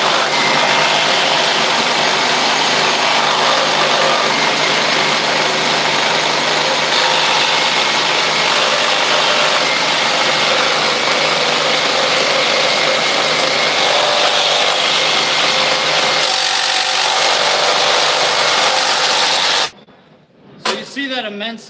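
A Milwaukee Nitrous carbide blade and a competitor's multi-material carbide blade cut side by side in a race, a loud, steady, dense saw roar that lasts about twenty seconds and then cuts out abruptly into quieter noise.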